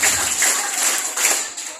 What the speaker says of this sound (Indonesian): Anak pintar tepuk tangan.